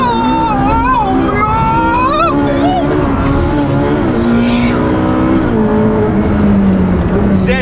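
A sports car engine, Porsche GT3 RS or Ferrari Speciale, drones loudly on a race track under gentle throttle, its pitch gliding up and down with a hint of tire noise, heard up close without a break.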